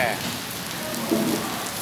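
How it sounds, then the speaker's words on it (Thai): Heavy rain patters loudly and steadily on a surface, a close, dense hiss with a voice speaking briefly over it. "วันนี้ฝนตกครับฝนตกมากมากเลย"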